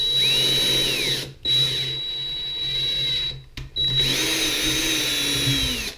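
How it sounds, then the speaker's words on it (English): A power drill on low speed whirs steadily, driving screws in three long bursts separated by brief pauses, close and loud. "I just screw them in there with the drill on low."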